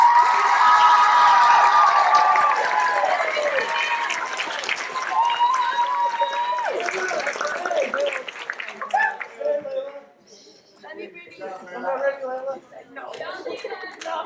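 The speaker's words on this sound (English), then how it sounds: "How about a round of applause for our seniors?" Audience applause and cheering for graduating seniors at a JROTC awards ceremony, a dense steady clapping crowd that thins and fades after several seconds into scattered claps and murmuring voices.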